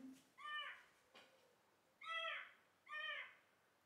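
A bird calls three times outside, with harmonic, slightly hoarse cries spaced about a second apart, moderately faint against a quiet background.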